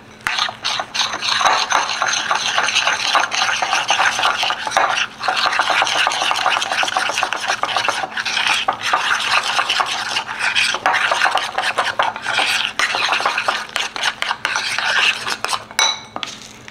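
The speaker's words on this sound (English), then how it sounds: "Now we're gonna stir this bad boy up" A protein meal stirred in a bowl with a utensil, producing a steady run of close scraping and clinking for the whole stretch, briefly interrupted, with no talking.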